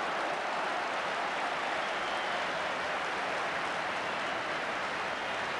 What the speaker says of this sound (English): Thunderous applause he's getting for a good run.